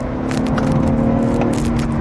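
A BMW M340i engine drones with a steady, strong hum inside the cabin while accelerating in fifth gear, road noise rushing underneath.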